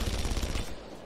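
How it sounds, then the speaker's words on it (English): Rapid automatic gunfire rattles in a short, dense burst in a video game, loud and close, then cuts off into quieter background. "Stop shooting me!"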